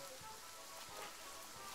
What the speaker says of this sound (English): And it is definitely still raining.